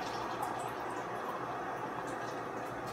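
Cold water running from a kitchen sink tap into a cup, a steady close hiss of flowing water that continues evenly without a break.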